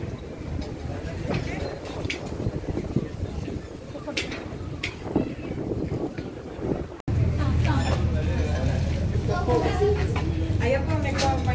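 A Thames river tour boat between Greenwich and Westminster sounds as a steady engine rumble with water wash and wind buffeting the microphone, loud and continuous, while people talk nearby.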